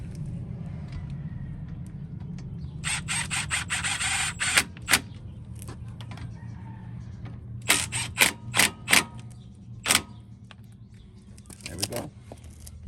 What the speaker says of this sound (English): Then we'll just take our trusty Milwaukee and give it a little love tap back in.